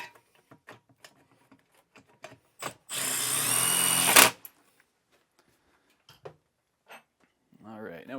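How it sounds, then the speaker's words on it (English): A power drill fitted with a 3/8 socket runs bolts down on the roof mount of a Furrion Chill Cube RV air conditioner on a 2018 Jayco Jay Feather. One steady, close whir lasts about a second and a half, with talking before and after. "I'm going to be using a 3/8 socket. And I'm just running that up until it's just touching."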